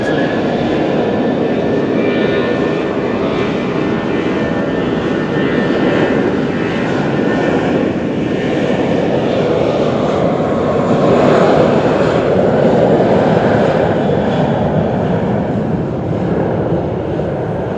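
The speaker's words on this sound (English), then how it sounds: "Familiar looking aircraft, isn't it? Jetstar, but this is Jetstar Japan" A Jetstar Japan airliner at Fukuoka Airport produces a loud, sustained jet engine roar with broad rushing noise, steady and close throughout, swelling slightly near the middle, with no voices.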